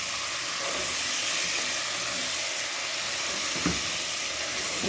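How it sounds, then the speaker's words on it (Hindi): Chicken frying in a karahi with garlic and green chilli paste: a loud, dense sizzle hisses continuously throughout, with a brief stir or scrape near the end. "तो इसको भी साथ में हम फ्राई कर लेंगे।"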